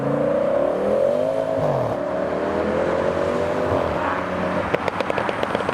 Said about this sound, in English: V10 noises, please.